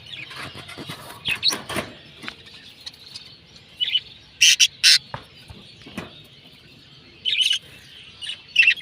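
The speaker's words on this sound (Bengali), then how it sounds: "আমাদের এই এক জোড়া হলুদ পাখি" A pair of yellow pet birds gives sharp, high chirps in short bursts scattered across the clip, close by, with quiet gaps between the calls.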